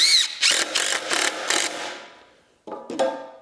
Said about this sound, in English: we'll put first pilot in, and then we'll drive a screw